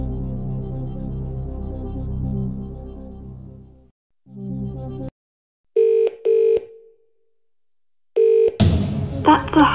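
Phone-a-friend dialing in a Who Wants to Be a Millionaire DVD game: a tonal musical passage cuts out, then several short electronic dial tones sound in separate bursts before a sharp burst of noise at the end.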